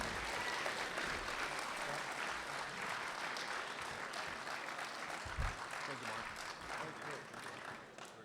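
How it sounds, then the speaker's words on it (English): Audience applause for candidates after a U.S. Senate debate in Alaska, a sustained wash of many hands clapping at moderate distance, fairly even throughout with crowd noise beneath. "please give both of these candidates a wonderful round of applause"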